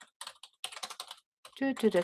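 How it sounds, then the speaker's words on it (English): Rapid typing on a computer keyboard during a live craft session, bursts of close, crisp key clicks in uneven clusters with short pauses, ending in a brief voiced sound. "So I need to do some typing."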